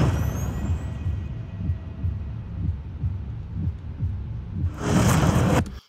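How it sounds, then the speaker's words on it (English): Slow-motion sound effects: deep bass drops and a pulsing heartbeat thump in a steady rhythm under a low hum, with a bright camera-click burst near the end before a quick fade. "It's a few bass drops, a camera click, and a heartbeat that is showing off the slow motion."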